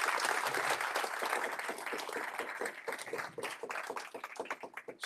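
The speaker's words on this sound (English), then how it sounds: "Another round of applause for Willem then, please." Applause from a small audience at a tech meetup, a burst of close, distinct hand claps that thins out and fades over a few seconds.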